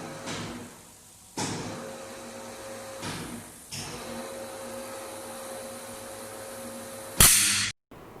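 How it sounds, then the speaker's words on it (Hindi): Steady buzzing crackle of high-voltage ionization discharge on a power cable under dielectric strength testing, with a constant hum, growing in bursts, then ending in a sharp loud snap at breakdown before a brief silence. "अब आप सुन सकते हैं आवाज़ जो है मज़ीद तेज़ हो रही है, ठीक है, मज़ीद आयोनाइजेशन का फिनोमेना हो रहा है"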